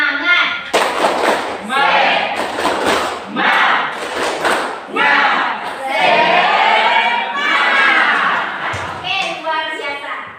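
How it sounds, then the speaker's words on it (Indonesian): A class of children doing a rhythmic spirit clap chant, with loud group shouting and claps in bursts and a few short pauses between phrases. "Tepuk semangat."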